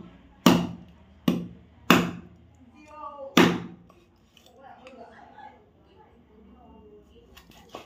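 A knife strikes down hard on something very tough, four loud, sharp chopping thuds in the first few seconds, followed by quieter rustling and faint handling sounds.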